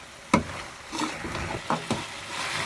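Carrot and cauliflower with spices stir-fried in a pan, a sharp scrape of the spoon near the start and a few more stirring knocks later, over a soft steady sizzle close by.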